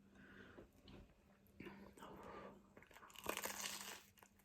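Someone bites into a crunchy spicy beef drip sandwich, buttered and garnished with parsley, giving several close, crisp crunches and crinkles that build to a louder burst of chewing near the end.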